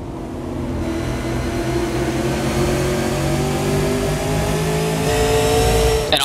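Late model race cars thunder around Five Flags Speedway, a loud, continuous roar of several engines running together with steady droning tones and a brief surge near the end.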